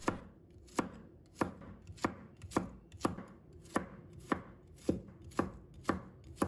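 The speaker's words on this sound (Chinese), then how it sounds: "接下来再准备一把大蒜，把它切成薄片。" Knife on a cutting board slicing garlic cloves into thin slices, about eleven sharp, evenly spaced chops in a steady rhythm, close and clear with no talking.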